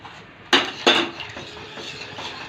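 A spoon clinks twice against a pan while white sauce of flour and milk is stirred, followed by softer scraping and stirring, close and clear, with no voices.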